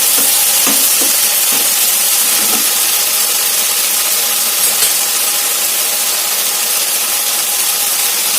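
Vegetables frying in a pan with a steady, loud sizzle that holds evenly throughout, with a few faint stirring scrapes and knocks near the start.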